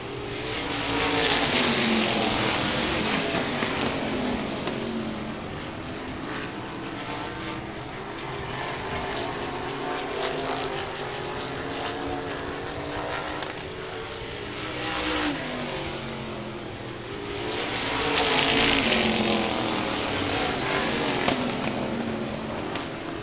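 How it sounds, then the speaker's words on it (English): Modified race cars in an opening-night feature at Baer Field Speedway give off a continuous loud engine roar that swells and fades as the pack passes, with surges around the start and near the end of the run. "Mike Mays in that 72 car, starting to lose a little bit of ground on Jeremy Wallen and Brent Martin."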